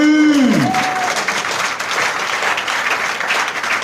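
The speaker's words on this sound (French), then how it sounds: "Est-ce que quelqu'un peut acclamer pour Jésus?" Congregation at a French-language church service applauding and cheering together, a dense, loud wall of clapping sustained throughout, with a brief falling tone at the start.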